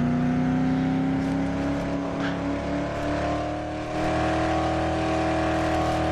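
A car drives in the zombie game Dead Island, its engine holding a steady, fairly loud hum that climbs gently in pitch as it speeds up, with a brief bump partway through.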